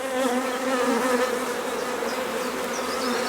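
A loud, steady buzz of many honey bees working a hive frame close by, a dense droning hum that wavers slightly in pitch and never stops.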